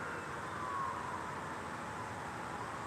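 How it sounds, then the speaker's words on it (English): A fire truck siren wails far off, faint and thin above a steady wash of background noise. "You can hear the sirens."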